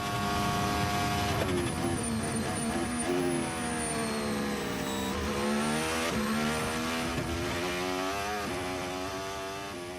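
Race car engines roar continuously at a motorsport circuit, loud and close, with rising and falling pitch as they rev and pass.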